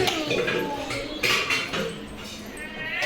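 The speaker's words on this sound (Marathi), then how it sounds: "भांडी काढायला लागले" Children handle kitchen pots and utensils, metal clattering and clinking in short bursts close by, with background voices and some rustling.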